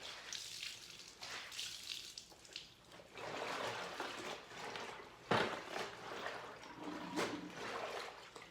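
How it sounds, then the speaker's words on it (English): Fabric being rinsed by hand in a water and vinegar solution for antiquing, with steady splashing, sloshing and trickling of water close by, rising and falling in bursts throughout. "we're just gonna rinse it here in this solution"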